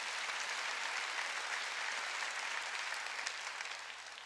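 A church congregation at a Sunday worship service claps together in a soft, distant, sustained wash of applause that slowly fades toward the end, with no voices over it.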